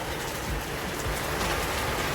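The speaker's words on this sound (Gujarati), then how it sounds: "કરીને આવ્યા ને વરસાદ ચાલુ થયો" Steady rain falls throughout, a dense broadband hiss of drops on a surface with no talking.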